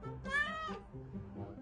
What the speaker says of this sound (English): This week's cat of the week is Padma